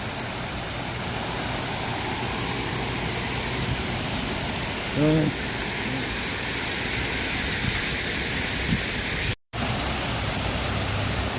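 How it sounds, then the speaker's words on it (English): A waterfall on the San Antonio River gives off a steady, broad rushing roar that fills the scene at moderate loudness, with a faint voice briefly audible and a momentary dropout near the end. "Waterfall."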